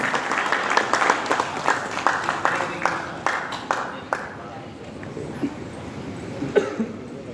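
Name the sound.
audience applause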